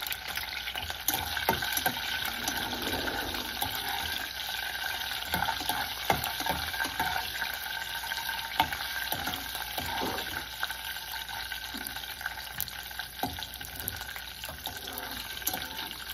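Cumin seeds sizzling in hot oil for an okra curry, a steady dense crackle and hiss that runs unbroken through the whole stretch, fairly close, with a few sharper pops and clinks of stirring.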